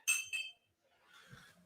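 A drinking glass clinks twice in quick bright taps as it is handled for a stirred drink with ice, followed by a faint softer rattle, close and quiet.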